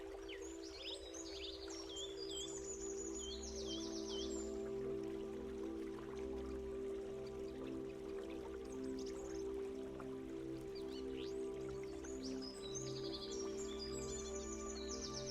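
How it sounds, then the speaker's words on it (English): Several birds sing on a sunny nature walk, bright repeated chirps and warbled phrases bursting at the start and again near the end over a constant low tonal hum. "The birds are singing."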